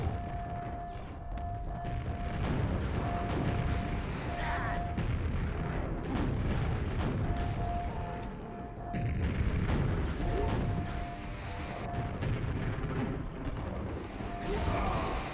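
Grenades exploding in the shooter game Quake: Scourge of Armagon, a dense run of booms and crashes over continuous game noise and music, steady and loud throughout with a brief lull near the middle.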